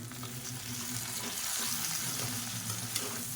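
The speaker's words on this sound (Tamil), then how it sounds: "நான் வந்து முருங்கைக்காயும் கத்திரிக்காயும் சேர்த்துருக்கேன். இப்போ இதையும் ஒரு 2 நிமிஷம் வதக்கிக்கலாம்." Drumstick (moringa) pieces and brinjal sauté in oil in a pan for a Tamil kuzhambu, making a steady, dense sizzle with soft stirring throughout and no voices.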